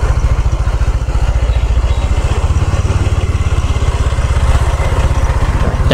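A diesel Toyota Fortuner passes close on a Saigon street at night, its engine a loud, rough, rapidly pulsing throb that stays steady and dominant throughout.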